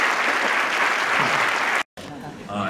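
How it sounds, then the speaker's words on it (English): People attending a city council and school committee inauguration ceremony applaud steadily and loudly. The clapping cuts off abruptly near the end, followed by a moment of silence and a softer scatter of sound. "so please give them a round of applause"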